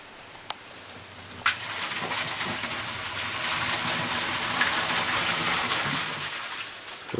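Water poured by hand to flush a toilet Samoan style, a steady gushing splash building and continuing, fairly close, after a few small knocks at the start.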